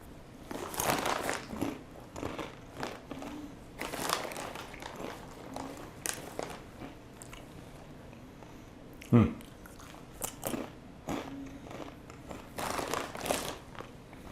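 Zack's Mighty Fiery Nacho rolled tortilla chips are bitten and chewed up close, with repeated crisp crunches in irregular bursts over rustling and a sharp loud crunch midway, and no talking.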